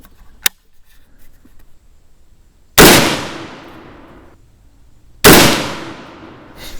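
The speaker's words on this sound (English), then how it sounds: "I'll take 2 more shots and then go check again." M1 Garand rifle fired twice outdoors, two loud sharp cracks a few seconds apart, each trailing off in a long decaying echo, with a small click before the first shot.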